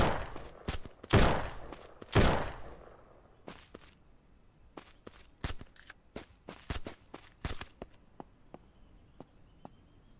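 Gunfire exchange in the video game SurrounDead, with sharp cracking shots in quick irregular bursts, several loud close reports at the start and then scattered lighter shots trailing off.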